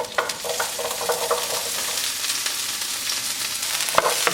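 Green onion stems sizzle in a frying pan for a stir fry, a steady bright crackle with scattered scraping clicks of stirring.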